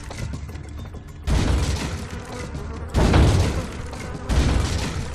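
Gunfire in the Resident Evil 4 video game sounds as three heavy blasts, each a loud booming burst a little over a second apart with rumbling tails, over a constant game background.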